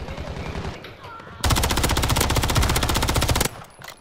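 Sustained automatic gunfire in the video game Call of Duty, a loud rapid rattle lasting about two seconds, preceded and followed by quieter game ambience.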